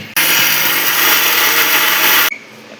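An electric mixer grinder runs hard and loud for about two seconds, grinding soaked rice and lentils into coarse rava, starting and stopping abruptly with a steady whirring roar.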